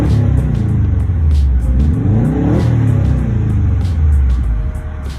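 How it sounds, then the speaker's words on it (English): A 2002 Subaru WRX wagon with a newly fitted TD04 turbo revs loudly and close by, the engine swelling and falling in repeated rising and dropping sweeps before settling back toward idle. "I'm revving it to, I guess, see if the turbo is healthy"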